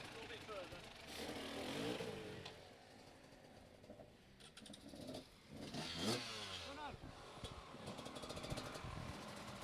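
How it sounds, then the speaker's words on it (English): Motorcycles at the BallBreaker Extreme 2019 race event rev and pass nearby, engines rising and falling in several waves, with people talking loudly over the machines throughout. "I'm going to get out of the way of these bikes"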